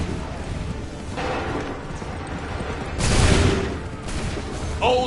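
Soldiers fire musket volleys in Assassin's Creed 3, with a few booming bursts of massed gunfire rising out of the ongoing battle noise, one especially loud volley near the middle, and shouted commands between them.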